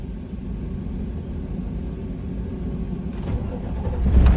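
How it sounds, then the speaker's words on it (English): Waste service truck engine cranking and catching after a stretch of low idle rumble, the starter burst and rising engine roar arriving near the end, close and fairly loud. "I'm going to start the truck."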